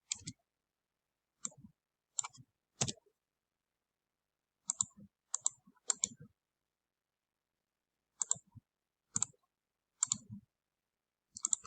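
Sharp keyboard and mouse clicks come in small quiet bursts with silent gaps between them while text is highlighted and erased on a computer. Each burst is a few crisp taps.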